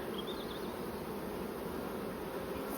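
Honeybees hum steadily at an open hive during an inspection, a close, even buzzing drone that holds without a break.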